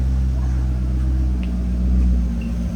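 A rebuilt C6 Corvette engine idles steadily and close by, a continuous low, even rumble with smooth harmonic tones and no talk over it.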